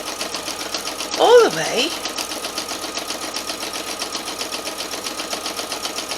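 A sewing machine hums steadily while sewing fabric for a Valentine's table runner, with a brief spoken comment rising over the whirr near the start.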